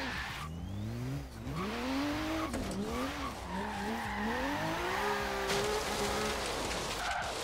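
Car engine in Forza Horizon 3 revving and shifting, its pitch rising and falling repeatedly alongside tire skidding and squealing, loud and continuous with no talk.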